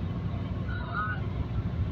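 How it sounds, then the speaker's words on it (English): Steady loud engine rumble and road drone inside a moving bus, continuous low roar with a faint whine, while someone talks over it. "I know this bus kind of loud"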